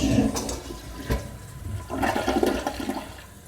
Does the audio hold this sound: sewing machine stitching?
no